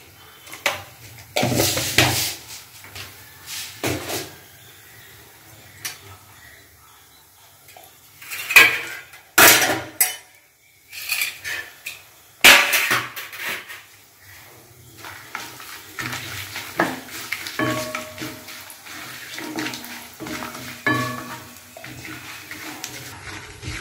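Cinnamon, cloves, cardamom and a little mustard seed go into hot oil for a crab curry, with clattering utensil knocks and stirring scrapes in uneven bursts and a light sizzle underneath, close by, no voices.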